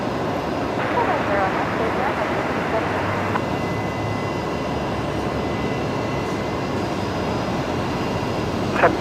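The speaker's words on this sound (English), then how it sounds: "Qantas 534 coming in from Sydney. There they are, just on short final." A Qantas airliner on short final landing at Brisbane Airport, a steady broadband engine roar holding level throughout, with voices talking over it.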